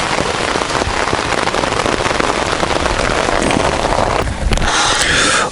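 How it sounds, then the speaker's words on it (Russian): Heavy rain pours during a thunderstorm on a riverside beach at Korop on the Desna river, a loud, steady, dense hiss of drops striking surfaces close by, with no voices. "кажется, гроза приходит"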